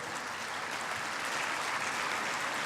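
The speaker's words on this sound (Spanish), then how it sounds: "Nuevamente les pido un aplauso." Audience applause at a national agricultural fair event, a dense steady clapping that fills the whole stretch evenly and loudly, with no voices over it.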